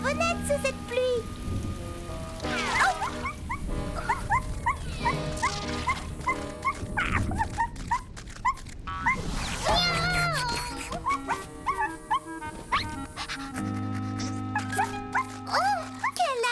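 A small wet cartoon puppy whimpers and gives short barks amid steady rain, close and under voices talking.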